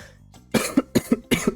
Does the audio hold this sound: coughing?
yes